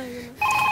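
A telephone bell rings on a Marathi comedy sketch show stage, a steady electronic ring starting partway through after a brief moment of quiet room tone.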